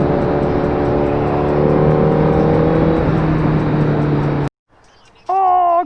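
A motorcycle engine roars loud and close on open throttle for about four seconds, then cuts out abruptly, followed by a brief lull and a person speaking.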